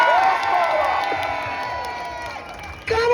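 A rally crowd in Glasgow's Buchanan Galleries cheers and whoops for Connor, a loud continuous roar of many voices that swells again near the end.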